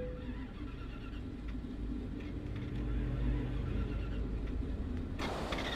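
A BMW 6 Series engine driven at over 200 km/h in Euro Truck Simulator 2, a steady loud roar and rumble that builds slightly before an abrupt change near the end.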